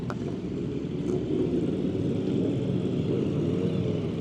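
Motorcycles, including a Ducati Panigale V2, ride out with a steady, loud engine drone that holds throughout, heard from close by with no talking.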